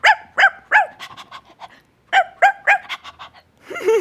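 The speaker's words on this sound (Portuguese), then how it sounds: "Ai, os filhotinhos de cachorrinhos." Puppies barking in quick bursts of high, yappy barks, three or four at a time, close and loud, separated by short pauses, ending with a drawn-out whine.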